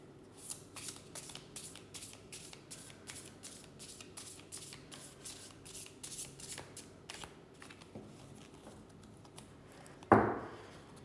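A deck of cards being shuffled, rapid crisp riffling bursts repeating in a steady rhythm close by, ending in a sharper snap as the deck is squared.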